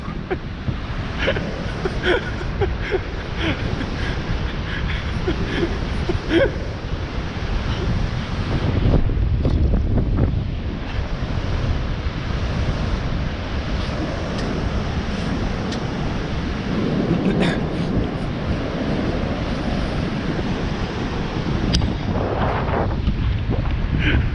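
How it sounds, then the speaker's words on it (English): Easterly wind blows hard along a South African seashore during shark fishing, roaring and buffeting the microphone with surf washing underneath, gusting stronger midway and staying loud throughout without talk. "the easterly wind has picked up now"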